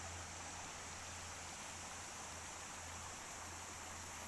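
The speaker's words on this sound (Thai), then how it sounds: "แล้วเราก็มาต่อด้วยน้ำตกคลองน้ำไหลค่ะ" Khlong Nam Lai waterfall and its clear stream, a steady, dense rush of flowing water with constant broadband hiss and a low hum underneath, continuous and even throughout with no voices.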